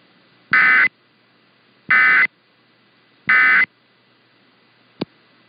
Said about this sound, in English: This is a monthly test of the emergency alert system.